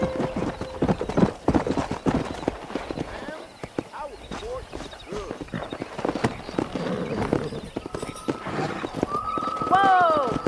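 Horse hooves clip-clop in uneven bursts with a couple of whinnies while rope-wrangling horses in the Red Dead Redemption video game, close and loud, with a voice and other game sounds mixed in.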